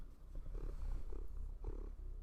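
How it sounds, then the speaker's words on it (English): A small orange cat purrs on a person's shoulder, a soft, close, rhythmic rumble that swells with each breath. "I don't know if you can hear him purring."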